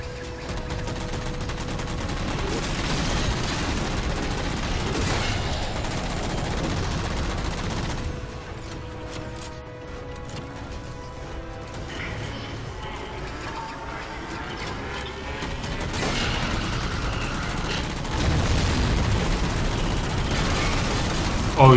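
Rapid automatic weapon fire from alien guns in Halo 4, sustained bursts roaring almost continuously with a brief lull midway, loud and close with occasional voices underneath.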